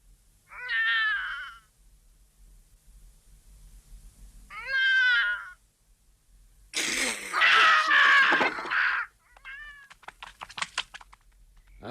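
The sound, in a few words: cat meowing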